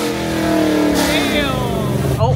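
A BMW G87 M2 engine revs hard up close, a loud, sustained mid-pitched roar climbing through harmonics before dropping off, with a voice breaking in at the end.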